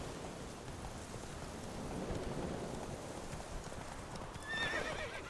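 Horse hooves clip-clopping steadily while riding in The Witcher 3 video game, with a brief neigh near the end and faint rain in the background, no talking.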